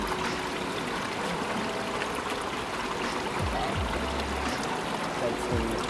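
Water trickling from a freshly cut tree branch outdoors on a trip in outer Tokyo, Japan, a steady soft stream running throughout beside faint background murmur.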